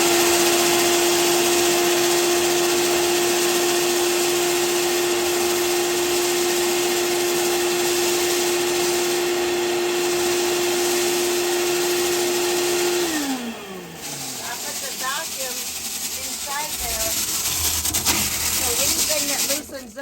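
A vacuum cleaner runs loudly and steadily with a high whine and rushing airflow while sucking up dust and lint, then winds down after about 13 seconds into quieter clatter and shuffling.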